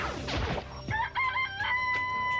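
Chicken crowing and clucking from the Danganronpa Trigger Happy Havoc video game, a loud rooster-like call followed by a few shorter tonal clucks, close and clear with no talk over it.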